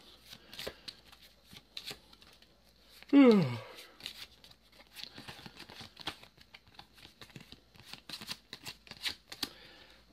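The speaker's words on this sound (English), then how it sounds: "So we've got the downtown deck. 1, 2. Do a bit of a shuffle." A deck of game cards for a board game session is shuffled in one quick riffle burst near the start, followed by lighter card handling with a person talking throughout.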